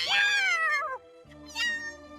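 A cartoon cat meows twice: a long, loud, wavering, falling meow, a short pause, then a second, shorter meow over a low background hum, with no talking.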